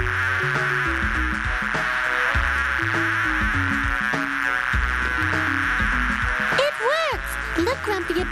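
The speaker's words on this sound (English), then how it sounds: "Look, Grumpy, a bee has already landed on a flower." Cartoon bees buzz around flowers, a continuous droning hum with wavering pitch under a busy musical score, with quick swooping tones near the end.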